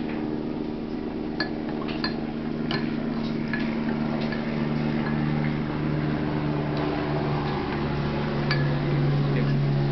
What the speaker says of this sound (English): now get your spoon and let's mix up